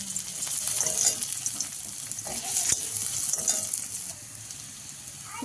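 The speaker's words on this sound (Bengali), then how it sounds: "কড়াইতে তেল দিয়ে দিয়েছি সামান্য একটু কারণ বেগুনটা তো ভাজা আছে আর বেশি তেলও লাগবে না পেঁয়াজ কুচি দিয়ে দিলাম" Chopped onion fries in a little oil in a wok, making a continuous, close, hissing sizzle with occasional stirring scrapes.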